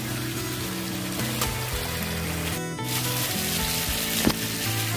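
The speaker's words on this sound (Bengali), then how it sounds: "আলুগুলোকে মশলার সাথে ভালো করে মিক্স করে আর একটু আমি ঢাকা দিয়ে" Potatoes coated in spices fry in a covered pan with a continuous close sizzle, briefly broken by a lid or utensil rattle near the middle.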